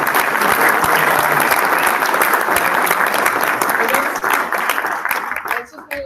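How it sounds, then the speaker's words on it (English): Sustained, dense applause from a crowd at a Bitcoin Private cryptocurrency conference, steady for several seconds before thinning out near the end. "I guess we can get a round of applause for that."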